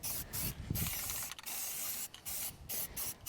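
Close hissing bursts from a can of flat black spray paint, several in a row with brief gaps, against rough wind noise outdoors.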